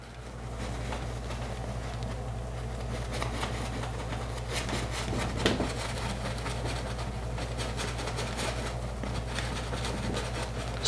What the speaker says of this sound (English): Scrubbing lightly as I get into the darker shadow areas.